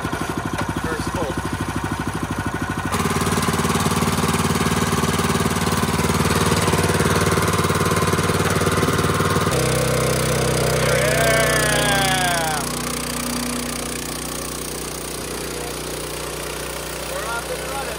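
A small engine powering a pond pump is pull-started and runs with a steady, buzzy chugging drone that shifts pitch partway through, while people talk near it.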